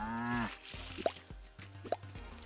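Cows in the video game Staxel: a low mooing call opens, followed by several soft watery plops at irregular intervals, with a faint second moo mid-way.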